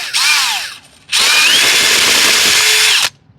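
A power drill drives a small machine screw into a rivet, giving a short whir, a brief pause, then a longer loud whine of about two seconds that stops sharply.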